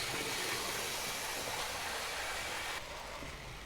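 Hornby TT:120 Scotsman model train running at top speed, a constant whirring hum of the small motor and wheels on track, fairly quiet and unbroken, easing slightly near the end.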